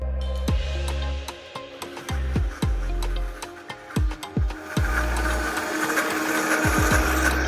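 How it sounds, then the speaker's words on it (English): A high-powered blender blending nuts whirs steadily, its motor pitch dropping and surging repeatedly as contents shift, loud and continuous with no talking. "use whatever powerful blender that you have"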